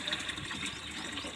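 Water gushes steadily from a tap or pump, filling a container for a troop of monkeys to drink in summer heat, a continuous close splashing rush with no talk over it.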